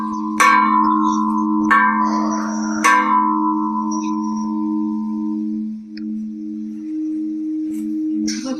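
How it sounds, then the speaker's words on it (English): Resonant metallic strikes in the manner of a gong or bell ring out three times in quick succession, each leaving a long, sustained hum that slowly fades under a steady drone, with faint clicks near the end. "Are you playing the gong over there?"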